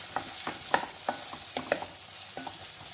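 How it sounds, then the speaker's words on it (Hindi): Capsicum sautéing in melted butter for a white sauce pasta: a soft, steady sizzle broken by repeated scraping stirs of a spatula in the pan, close and irregular, with no voices. "बटर जो है मेल्ट हो गया है, इसमें ऐड करेंगे कैप्सिकम। इसे थोड़ी देर सोते कर लेंगे।"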